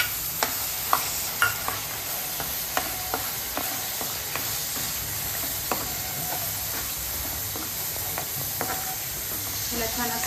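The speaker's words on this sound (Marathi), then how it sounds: "तर आपण जे हे काळं वाटण केलेलं आहे त्यात आपण हे थोडंसं भाजून घेणार आहोत" Black masala paste roasting in hot oil for chicken sukka, a continuous close sizzle and hiss with frequent light spatula taps and scrapes throughout.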